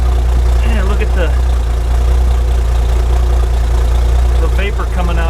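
A GM 270 engine idles with a steady low rumble while warming up, and someone talks over it for most of the stretch.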